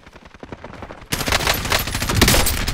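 Video game gunfire, faint rapid shots at first, then a sudden loud burst of sustained automatic fire that keeps going to the end.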